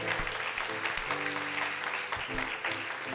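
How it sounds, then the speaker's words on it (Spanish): A church congregation applauds steadily as a dense, continuous wash of clapping, with sustained music tones ringing underneath throughout. "Dele más fuerte ese aplauso si usted lo cree."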